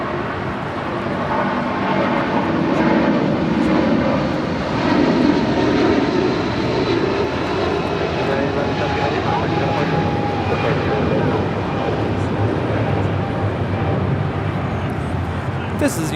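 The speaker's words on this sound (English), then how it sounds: "1170 departing to Honolulu on a 777-200." United Airlines Boeing 777-200 jet departing LAX, a sustained loud engine roar that swells and stays steady for many seconds, with a voice talking over it.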